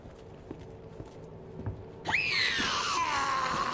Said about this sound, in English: What the hell was that scream?